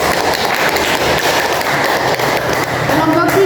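Classroom applause from students clapping, a dense and loud wash of hands blended with chatter and voices throughout, with a faint tonal sound near the end.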